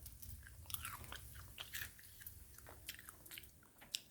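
Crisp, crunchy bites into fried chicken strips, with several sharp crunches and steady chewing up close, no talking.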